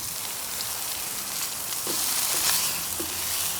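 Hash browns frying on a Blackstone camp griddle: a steady, close, hissing sizzle with faint scraping touches from a small spatula, and no talk.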